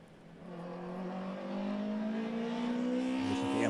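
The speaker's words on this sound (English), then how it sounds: "There's a BMW." A BMW rally car drives past during a stage rally in Cork, its engine note climbing steadily as it revs and approaches, loud and close, with no voices over it.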